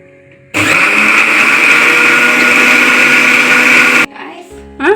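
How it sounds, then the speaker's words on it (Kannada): A kitchen mixer grinder (mixie) blending tomato and other ingredients for mushroom sambar roars loudly and steadily for several seconds, then cuts off abruptly, followed by brief faint kitchen noises. "ಮಿಕ್ಸಿಗೆ ಹಾಕೊಂಡಿದ್ದೀನಿ"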